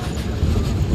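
The Harangul–Pune Express rushing through Hadapsar railway station in Pune at high speed, a loud, close, continuous roar and rumble with no gaps.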